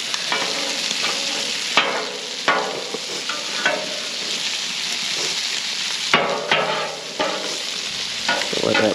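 Flounder cooks in butter on a Blackstone griddle with a constant close sizzle, broken by sharp scrapes and taps of a spatula on the flat steel.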